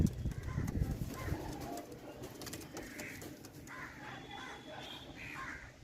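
Pigeons coo with low, soft, repeated calls near the start, then a voice talks over quieter bird sounds in the background.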